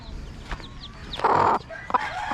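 A Macklin Hatch gamefowl chick gives a few short, high chirps close by, followed by a louder sustained peep and more brief calls over faint background noise.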